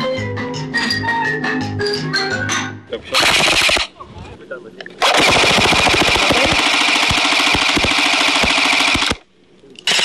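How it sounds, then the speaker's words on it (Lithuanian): In a mock combat game, guns fire in loud, rapid bursts, with a short burst after someone speaks, then a long sustained volley that cuts off abruptly. "Šaudyti iš šių ginklų vienas malonumas"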